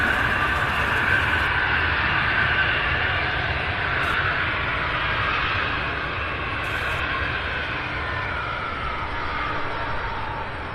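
A large jet taxiing at Louisville International Airport gives off a steady, loud engine roar and broadband rumble that holds for the whole stretch, without pauses or voices.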